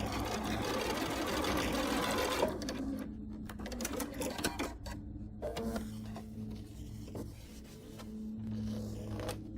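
A sewing machine stitches quilt pieces for an Alabama Beauty poinsettia block, starting with a fast continuous run and then breaking into short stop-start bursts of stitching with small clicks and handling noises between them.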